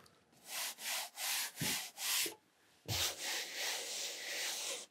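A hand rubs back and forth across a coarse cotton painting canvas in five rhythmic strokes, a pause, then a longer, rougher scrubbing pass, close and dry.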